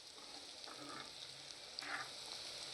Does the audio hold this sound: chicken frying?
yes